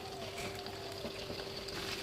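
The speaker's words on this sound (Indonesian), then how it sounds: "Ini kita goreng setengah matang aja" Chicken pieces shallow-frying in hot oil for Indonesian semur ayam kecap, a steady close crackling sizzle with a faint constant tone running underneath throughout, no voices.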